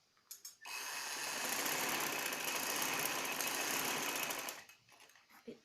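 Sewing machine stitching a baby frock, a steady fast mechanical whir running for several seconds, framed by a few brief clicks before and after.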